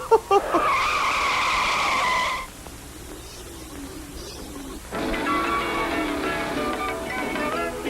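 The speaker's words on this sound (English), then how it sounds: "Luigi, start the race, please" Cartoon race cars peel off at the start of a race with a loud tire screech for a couple of seconds, then a quieter engine hum before a second burst of squealing and revving.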